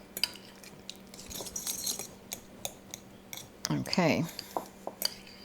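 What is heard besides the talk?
fork mashing vinaigrette ingredients against side of bowl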